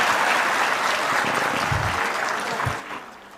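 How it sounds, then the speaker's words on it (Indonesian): Sustained audience applause at a mass housing mortgage (KPR FLPP) signing ceremony in Serang, a steady wash of clapping filling the hall and fading slightly toward the end. "kok tepuk tangannya nggak terlalu keras kalau Pak?"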